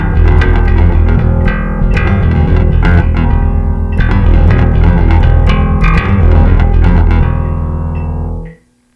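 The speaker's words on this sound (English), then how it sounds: "we'll play it along with the metronome at about 119 beats per minute" Bass guitar riff played at tempo against a metronome at about 119 beats per minute, dense and driving with steady rhythmic plucking, loud and continuous for about eight seconds before cutting off.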